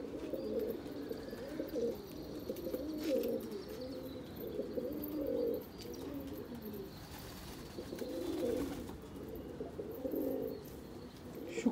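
Pigeons cooing around a loft coop, repeated low throaty coos in steady bursts close by, with faint chirps over quiet background.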